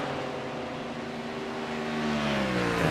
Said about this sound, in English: That Mustang, new Mustang GT3 has that same classic Ford V8 sound as the old Shelby